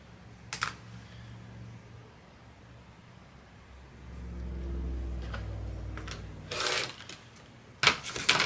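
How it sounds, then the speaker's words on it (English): A sewing machine stitches quilt pieces in short bursts: a few clicks and whirs, then a sustained run of mechanical stitching, with handling clatter and rustling close by. "So I'm gonna go ahead and sew these"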